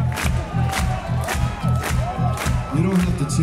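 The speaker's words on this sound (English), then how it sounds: "You don't have to cheer, that's just what happened." A concert crowd at a show at Gröna Lund in Stockholm roars and whoops in loud, surging waves over a pulsing low throb.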